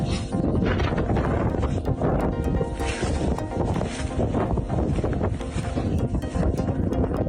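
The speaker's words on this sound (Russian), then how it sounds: "Северо-запад Китая содрогнулся от мощных порывов ветра, эквивалентных урагану" Strong, gusty hurricane-force wind from a sandstorm in Turpan, Xinjiang, in northwest China, roaring and buffeting the microphone continuously, loud and close with rough crackling bursts.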